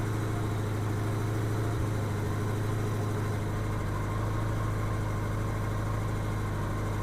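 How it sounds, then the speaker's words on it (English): A 1987 Honda GL1200 Goldwing engine runs steadily during carburetor synchronization, a continuous close drone with a slight shift in its low rumble partway through and no talking. "let me flip the throttle"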